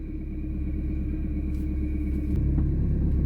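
Nissan Micra with faults rolling forward on its first drive, a low close engine rumble that swells slightly as it moves, with a few faint clicks over the top.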